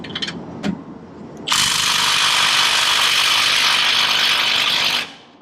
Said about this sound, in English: we got to use the torque limiting adapter, which means it breaks if it doesn't loosen